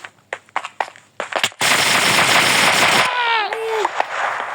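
Gunfire in a prison escape video game, several sharp separate shots followed by a loud, sustained burst of rapid fire that cuts off abruptly, then a voice speaks over lingering game sounds.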